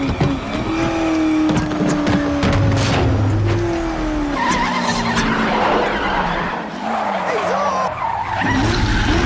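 A car with brake fade skids, tires squealing in long wavering tones over loud engine and road noise for several seconds.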